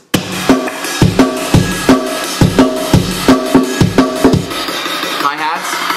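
Drum loop from a room microphone channel with the snare and kick removed and the high end boosted, giving a steady, bright, roomy pattern of evenly spaced hits for about five seconds before a synth-like tone takes over at the end.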